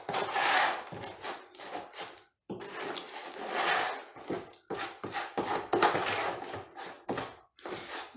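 Filler plaster paste being worked and mixed by hand into a putty-like consistency, with repeated close scraping and slapping strokes in irregular bursts separated by short pauses.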